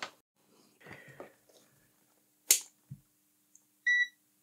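Multimeter continuity tester giving a short electronic beep near the end, after quiet handling clicks of test leads and a soft murmured voice.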